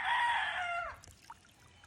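A fighting rooster, freshly bathed, lets out one loud, close crow that ends in a falling tail, followed by quiet with a faint rustle.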